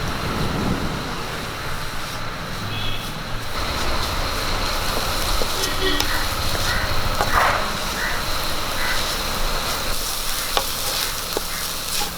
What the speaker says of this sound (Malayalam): തേങ്ങ ഇതിലേക്ക് ചേർത്ത് കൊടുക്കാം നല്ലപോലെ ഇളക്കി കൊടുക്കാം